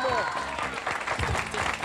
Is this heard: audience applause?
yes